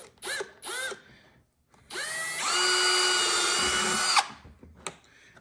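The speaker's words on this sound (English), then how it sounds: "to drill that hole." A step drill bit bores a hole through a Polaris part for punch light installation: two short whirring spin-ups, then a sustained loud, close drilling whine for about two seconds before it stops.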